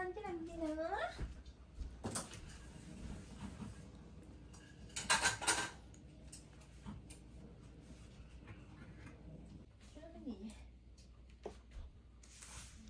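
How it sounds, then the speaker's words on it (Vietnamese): Cake batter for baked bánh bò is stirred in a bowl, heard as soft faint scraping with a brief burst of spoon clinks, while an adult and someone talk. "Quậy cho nó tan bột ra đi."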